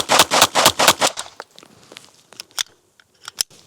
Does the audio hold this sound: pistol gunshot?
yes